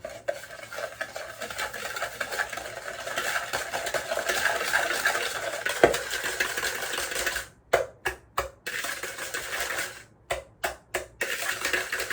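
A whisk stirs apple crumble cake batter with sugar and a little salt, making a continuous scraping, swishing sound that breaks into short rhythmic strokes near the end, close and fairly loud.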